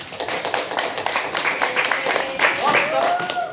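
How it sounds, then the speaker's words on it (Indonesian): A classroom of students applauds together during a micro-teaching lesson: dense, rapid, overlapping hand claps fill the whole stretch, close and fairly loud, with a few raised voices mixing in toward the end. "Tepuk tangan buat kalian."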